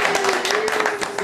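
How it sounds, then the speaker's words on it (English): Rapid hand clapping rings out as brief applause, crisp overlapping claps over a steady humming tone. "Clap, clap."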